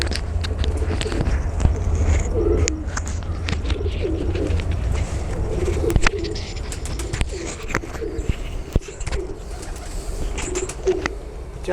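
Domestic racing pigeons cooing in low, repeated rolling calls, near and continuous over a dull background rumble, with occasional sharp clicks and rustles.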